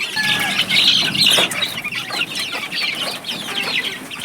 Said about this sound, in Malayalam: ഇക്കാണുന്നത് കോഴിക്കുഞ്ഞുങ്ങളെന്ന് പറഞ്ഞു കഴിഞ്ഞാൽ ഇതാ അഞ്ചെണ്ണം ഉണ്ട് ഇതിനകത്ത്